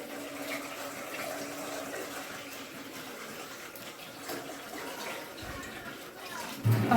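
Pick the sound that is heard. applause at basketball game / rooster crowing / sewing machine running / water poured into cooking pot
water poured into cooking pot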